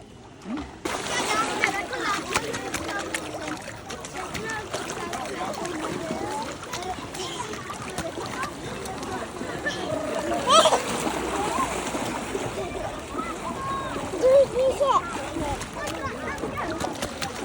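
A small boy splashing while bathing in a lake in Sweden in summer: steady close sloshing and splatter of water with a few sharper splashes, while voices talk over it outdoors.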